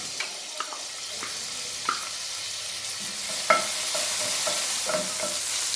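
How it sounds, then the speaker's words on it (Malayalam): Crushed garlic sizzles in sesame oil in a pan for chicken fried rice, a loud continuous crackle with occasional sharp spatters and utensil stirs on top, no talking. "ഇനി ഇതിലേക്ക് ഞാനിവിടെ ഒരു 8-10 വെളുത്തുള്ളി ചതച്ചെടുത്ത് വെച്ചിട്ടുണ്ട്"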